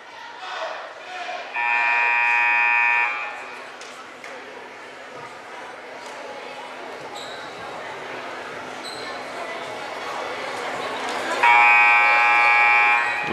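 A long basketball game buzzer sounds twice inside a high school gym, loud tonal blasts near the start and end over steady crowd murmur and squeaking sneakers.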